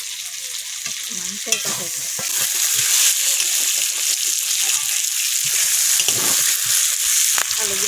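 Greens go into a hot pan with meat in a Bengali home kitchen, sizzling and crackling steadily in oil while a spoon stirs and scrapes, with someone speaking softly over the frying.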